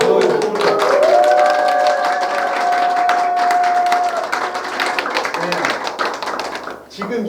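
Loud audience applause fills a lecture hall at a Korean arts festival talk, dense clapping sustained throughout with a host's voice speaking over it.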